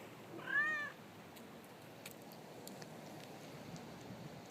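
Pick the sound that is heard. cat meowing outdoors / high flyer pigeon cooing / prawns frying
cat meowing outdoors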